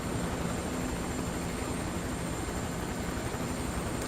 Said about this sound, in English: What a great helicopter. H125. Okay, get on board. Very noisy.